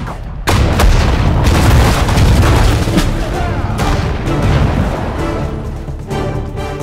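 Dense, continuous artillery booms and rattling gunfire from the Normandy invasion mission of the WWII strategy game Sudden Strike 4, loud and sustained with heavy low rumble throughout.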